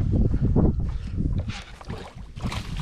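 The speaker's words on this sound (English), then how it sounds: "Freaking wind is killing me." Wind buffets the microphone on a boat during a brackish-water fishing trip, with low, rumbling gusts that rise and fade in uneven waves over a few seconds, loud and close with no clear speech.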